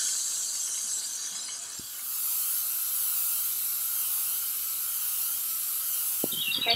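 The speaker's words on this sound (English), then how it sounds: "Now I'm going to start spraying." PlastiKote spray paint hisses steadily from an aerosol can for several seconds at close range, coating chalkboard placemats, with a couple of faint clicks near the start and end.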